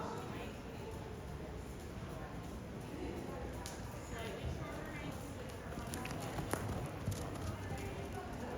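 Horses trot in an arena at a horse show, their hoofbeats a soft, rhythmic clip-clop under steady background noise, while a voice talks over them.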